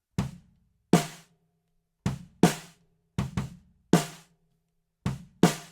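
Drum kit overhead microphones soloed, sharp separate hits with bright cymbal wash and quick decay in a loose repeating pattern, close and clear against silence.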